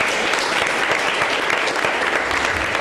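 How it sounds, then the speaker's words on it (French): Steady, dense applause from an audience at a French poetry slam, filling the whole stretch with even clapping and no talk over it. "On peut applaudir la poète."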